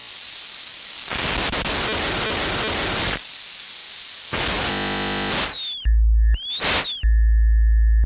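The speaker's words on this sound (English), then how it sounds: "And then you can play with the frequency of oscillator 2." Nord Rack 2 virtual analog synthesizer in synth mode, with oscillator 2's frequency swept: loud bursts of static-like noise give way to buzzy, swooping tones and pitched chirps near the end, with no voices.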